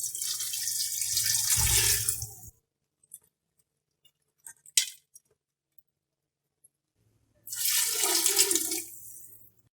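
Water pours into a pot of lentils and beef in two bursts, separated by a quiet gap with a few small clinks and knocks.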